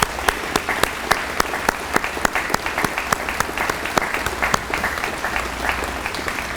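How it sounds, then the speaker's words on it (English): A large audience at a training academy graduation ceremony claps steadily and loudly, with dense, sustained applause and sharp individual claps throughout. "Let's give them a round of applause,"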